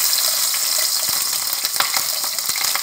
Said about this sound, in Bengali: এবার আমি এর ভিতরে পেঁয়াজ, কাঁচামরিচ ও রসুনটি দিয়ে দিই।